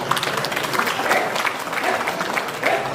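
A meeting audience claps in a dense, steady round of applause from a crowd, continuous throughout with some murmuring voices underneath.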